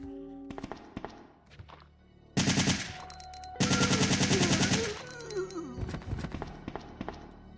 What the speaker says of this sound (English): I love this gun.